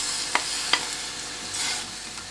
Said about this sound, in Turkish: tereyağında biraz kavuruyorum